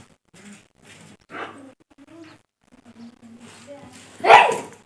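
A few small dog yaps and whimpers, close by, mixed with voices talking, ending in a sharper, louder bark.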